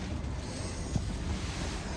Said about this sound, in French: le vent est à 140 km/h je crois